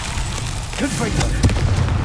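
A Confringo blasting spell goes off in Hogwarts Legacy, a deep booming explosion rumbling out over a couple of seconds while a voice speaks over it.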